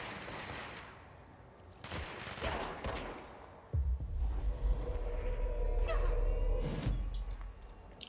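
Gunfire in the action video game Control, a mix of sharp bursts and a heavier sustained volley that builds partway through, with dense game effects around it and no talk over the shots.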